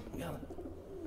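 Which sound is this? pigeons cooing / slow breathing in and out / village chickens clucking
pigeons cooing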